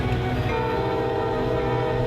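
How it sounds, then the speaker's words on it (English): Union Pacific train horn sounding steadily and loudly with sustained chord tones over the heavy rumble of a passing train during a holiday charity run, continuous for the full couple of seconds. "would be playing Jingle Bells on the horn as the train passed each station to Pingree Road and back"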